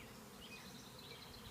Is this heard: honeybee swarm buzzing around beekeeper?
yes